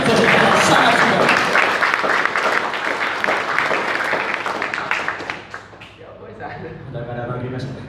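Audience at a stand-up comedy show claps loudly from the start, the applause mixed with talk and gradually thinning out before a speaking voice continues.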